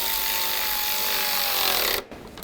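A power ratchet runs in one steady, close, loud two-second burst while tightening bolts on a 2006-2011 Cadillac DTS radiator cooling fan assembly, then stops abruptly with faint handling noise.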